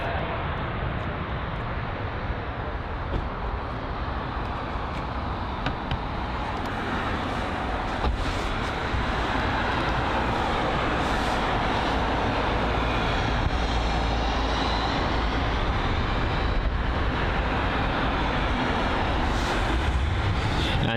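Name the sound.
Qatar Airways Boeing 777 departing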